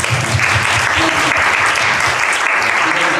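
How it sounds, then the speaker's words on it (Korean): Church congregation clapping together after a welcome during a Sunday service, a steady, dense round of applause filling the room, loud and close, with faint voices beneath it. "우리 박수 한번 치겠습니다"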